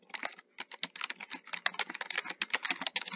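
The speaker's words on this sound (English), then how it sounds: "next, you go to the comment section and type in your request." Rapid, continuous typing on a computer keyboard, close and clear, with a steady patter of key clicks and one short pause near the start; no voices.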